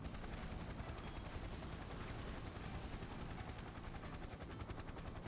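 A helicopter armed with Gatling guns, rockets and a chain gun in the fighting game Persona 4 Arena Ultimax roars with a dense, rapid rotor chop, steady and loud throughout with no talk.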